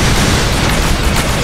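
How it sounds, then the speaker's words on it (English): Scatter volley from wing cannon platforms in a space combat video game, a loud dense burst of overlapping booming blasts with no gaps. "cannon scatter volley with my wing cannon platforms"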